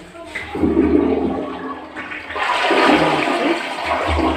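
A toilet flushes loudly close by, with a rushing surge of water that swells and drains, in a bathroom being cleaned with vinegar.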